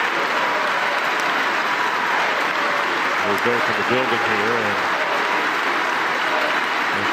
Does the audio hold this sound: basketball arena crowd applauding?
yes